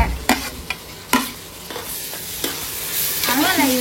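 Onions and tomatoes frying in a pan for fish curry, a soft continuous sizzle broken by several sharp spoon scrapes and knocks at irregular intervals, close up.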